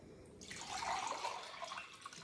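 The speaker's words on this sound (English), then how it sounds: "Now I'm gonna pour it right back in here." Liquid poured back into a container, a steady splashing trickle that swells after a quiet start and continues faintly for a couple of seconds with no talk.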